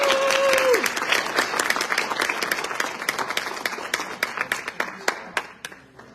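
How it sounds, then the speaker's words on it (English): An audience gives a warm round of applause at a school community event, starting as a dense wash of clapping that thins into scattered individual claps as it fades, with a brief tone near the start. "I'm going to ask you a nice warm round of applause for Dr."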